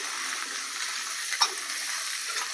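Curry leaves sizzle and sauté in hot oil for a spicy Maharashtrian aamti, a steady dense crackle with one brief louder pop midway, no voices.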